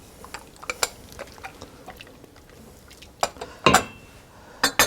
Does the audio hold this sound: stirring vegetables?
yes